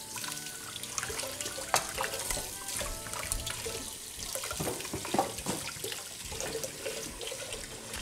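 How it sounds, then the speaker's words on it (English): Water runs steadily from a kitchen tap into a sink for hand washing during beef stew preparation, a continuous splashing flow with clinking and handling noises mixed in. "May I wash my hands?"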